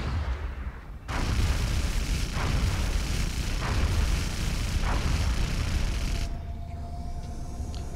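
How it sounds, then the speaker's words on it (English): Phoenix cannons fire from a fighter craft in the video game XCOM as a run of loud, rapid booming shots over a roaring background that cuts off abruptly. "We're going to send some Phoenix cannons at him."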